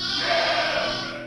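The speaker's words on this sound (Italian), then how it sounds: "guarda, c'è ancora la placenta attaccata alla pecora." A sheep bleats close by beside a newborn lamb on a farm in Abruzzo, the placenta still hanging from the ewe; one loud, strained, noisy cry fills the moment.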